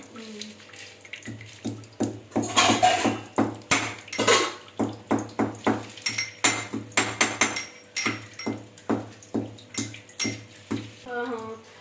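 Cardamom pods being pounded by hand for a traditional Telugu pulagam rice dish: steady rhythmic thuds, dozens of sharp knocks in a regular beat, close and fairly loud, with occasional voices talking in between.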